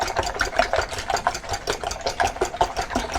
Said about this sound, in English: So we're going to whisk the eggs up here.